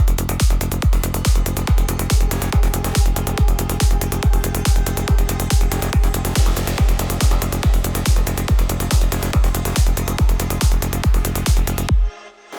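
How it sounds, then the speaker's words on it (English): A synthesized psytrance stab with filtering, reverb and distortion punches through a loud, driving loop with a rapid, steady beat, then cuts off abruptly at the end. "in terms of our stab, we have something that sounds like this"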